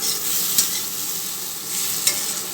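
Potatoes and pointed gourd fry in oil in a kadai, a steady broadband sizzle with two brief stirring clinks, close and continuous.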